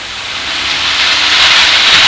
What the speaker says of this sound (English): we're going to take off when it goes about 45 miles an hour